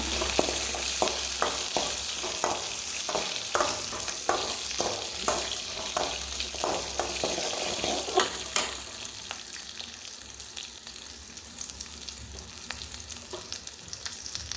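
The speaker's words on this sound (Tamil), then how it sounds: "கடலைப்பருப்பு, உளுந்தம்பருப்பு, சின்ன வெங்காயம் ஒரு கைப்பிடி அளவு சேர்த்து வதக்கிடுங்க." Chana dal, urad dal, dried red chillies and shallots sautéed in hot oil, a dense crackling sizzle with rapid rhythmic stirring strokes that ease into a calmer, softer fry halfway through, close and without talk.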